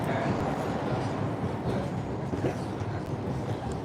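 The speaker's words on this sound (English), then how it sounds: "This is a Harvard-bound, northbound train" An MBTA Red Line subway train runs northbound toward Harvard on the Braintree branch, giving a steady, loud rumble of wheels and car noise that holds throughout with no clear breaks.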